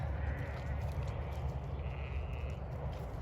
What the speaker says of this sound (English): Sheep are bringing themselves in.